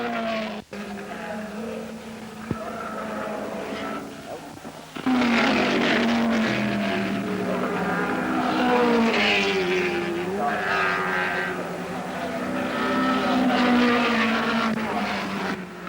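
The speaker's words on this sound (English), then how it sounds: "Elford is back in the lead, but now is harried by Rodriguez in the John Wyer Porsche" Early-1970s racing cars, including John Wyer Porsches, roar past on a circuit, engines rising to a loud sustained howl with shifting pitch as they pass and recede, heard from trackside.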